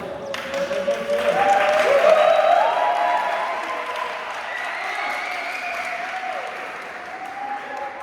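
Spontaneous applause from an audience at a women's theatre workshop performance, a loud wash of clapping that swells then slowly thins, with a singing or speaking voice rising over it near the start.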